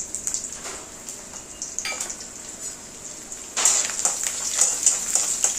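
Ginger and garlic fry in hot oil for tomato chutney, a crackling sizzle that swells noticeably louder partway through and stays bright and close, with no talking.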